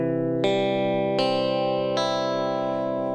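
Open guitar chord sounded one string at a time, four clear picked notes at steady intervals, each ringing on and overlapping the last, close and fairly loud with no voices.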